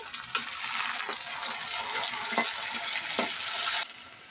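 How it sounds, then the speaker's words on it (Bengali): Chopped tomato tipped into a pan of lightly fried onions for a Bengali egg curry, setting off a steady loud sizzle with a few soft stirring knocks, then cutting out suddenly near the end. "পেঁয়াজটা হালকা করে ভেজে নিয়েছি এবার এর মধ্যে দিয়ে দেবো টমটম কুচি"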